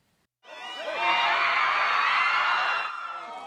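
BTS fans from around the world, including Brazil and France, erupt in loud cheering, whooping and high-pitched screams after near silence, holding a dense roar that eases slightly at the end.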